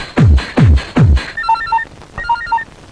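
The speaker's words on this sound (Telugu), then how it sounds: "ఆనంద్ నీకే ఫోన్." A telephone rings loudly and close by, three descending tones followed by a repeating electronic trill pattern, heard alone with no voices.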